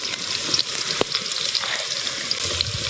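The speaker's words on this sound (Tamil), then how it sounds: "வெங்காயம் நல்லா வணங்கிட்டு இருக்கு." Onions sauté in a pan over an outdoor cooking fire, giving a steady close sizzle and crackle with a few soft stirring clicks and no talk.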